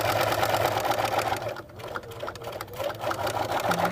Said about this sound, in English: So I'm sewing to this pin and then I'm going to stop.